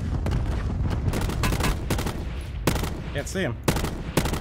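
Gunfire in Call of Duty Blackout duos battle royale, with repeated sharp bursts of shots coming in clusters throughout, mixed with game effects, while players talk over it.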